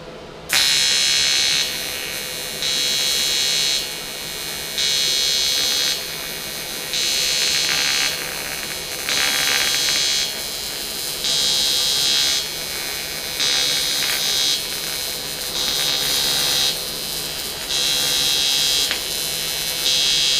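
Pulsed AC TIG welding on 3/32 aluminum boat transom cover trim with a 3/32 tungsten electrode at about 120 amps: a loud, steady electric buzz that swells and dips in a regular rhythm roughly every second and a half, with no talking.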